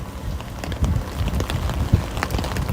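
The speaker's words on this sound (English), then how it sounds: "the rain doesn't sound pleasant" Steady rain pours outdoors, a continuous dense patter of drops on surfaces with low rumbling gusts and occasional heavier splats, loud and close to the microphone.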